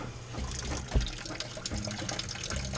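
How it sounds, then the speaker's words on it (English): Water runs steadily from a leaking bathroom sink faucet with a missing washer, a close, continuous splashing trickle into the basin with a small knock partway through, no talking. "Turn the water on."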